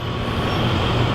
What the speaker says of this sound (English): All I have now is a school bus right there.